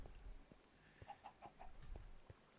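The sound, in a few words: chickens clucking in Minecraft video game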